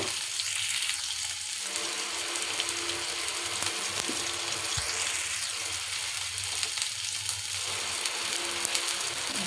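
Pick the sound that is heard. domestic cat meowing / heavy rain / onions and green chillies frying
onions and green chillies frying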